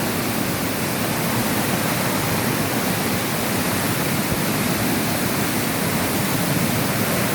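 Loud, continuous rushing of fast-moving floodwater during heavy rain, a dense, unbroken roar with no voices.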